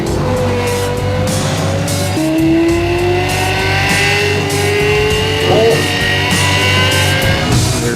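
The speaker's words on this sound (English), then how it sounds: "The Lexus LFA, because of the noise it makes principally" A Lexus LFA supercar engine revs with rising, sweeping tones and gear changes, loud and close, under a steady high-pitched whine.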